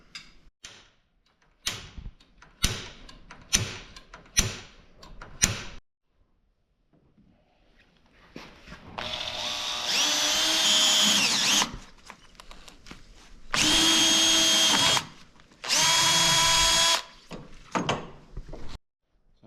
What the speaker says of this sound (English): So that'll be our next step, is to drill the hole for the set screw.